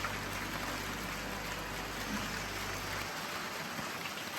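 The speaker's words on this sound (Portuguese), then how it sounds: "eu estou adorando filmar nessa chuvinha" Light rain falls outdoors among garden plants, a steady broadband hiss of drops that stays even throughout, fairly loud and close, with a low hum dropping away partway through.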